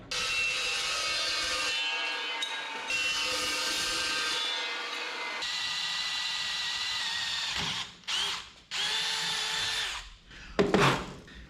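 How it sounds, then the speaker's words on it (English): A power drill bores through a steel control arm for a 1963 Loadstar truck, whining in long sustained runs with brief pauses, then stopping and starting in short bursts near the end, close and loud. "drilled all the way through"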